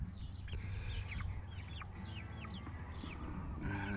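Chickens clucking and calling in a farmyard, a busy scatter of short chirpy clucks at moderate distance over a low steady background hum.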